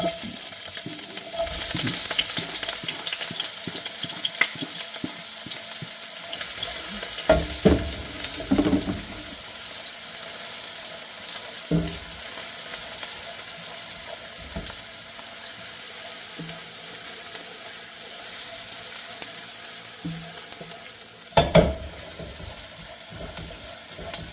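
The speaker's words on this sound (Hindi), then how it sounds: "हमारा ऑयल जो है ये गर्म हो चुका है अच्छे तरीके से। तो अब इसके अंदर जो है ये चॉप ओनियन जो है हम ये डालते हैं।" Chopped onion sizzles in hot oil in a pan, a steady frying hiss with scattered utensil knocks and scrapes and a few louder clatters, no voices.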